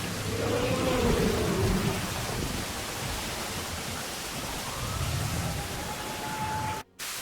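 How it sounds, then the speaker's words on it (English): Acid rain in the video game Jurassic World Evolution falls as a steady, moderately loud hiss of rain with faint low rumbles underneath, running throughout with a brief dropout near the end. "This acid rain literally burns everything in sight and chokes the life out of plants"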